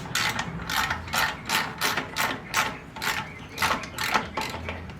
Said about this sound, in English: So the bolt underneath that has to loosen up the C-clamp.